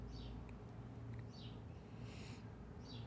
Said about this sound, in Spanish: Y ahí están los pájaros otra vez gritándome amén.